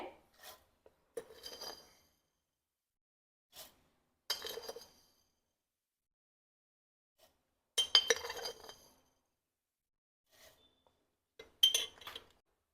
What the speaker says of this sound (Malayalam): ഇവിടെ ഞാൻ ചേർത്ത് കൊടുക്കുന്നത് 4 ടേബിൾ സ്പൂൺ പഞ്ചസാരയാണ്.